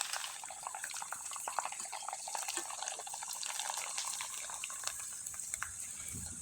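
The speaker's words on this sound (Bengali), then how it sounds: "এবার আমি কয়েকটা পিঠা তেলে ভেজে দেখিয়ে দেব" Light flower-shaped pitha cakes fry in hot oil, giving a steady, close sizzling hiss with fine crackles throughout.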